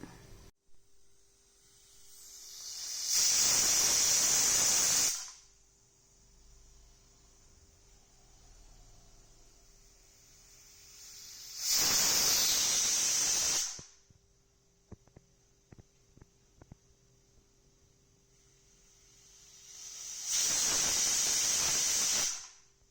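Three loud bursts of sharp steam hissing from a pressure cooker cooking mutton biryani, each lasting a couple of seconds, separated by quieter gaps with faint clicks.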